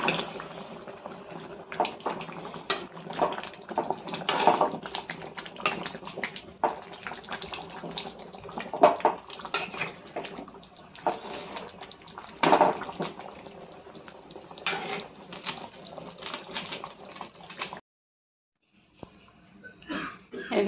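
Hot water pours and sizzles into mutton curry cooking in a pot, a continuous close bubbling hiss with a few sharper splashes, then a short silence and faint stirring.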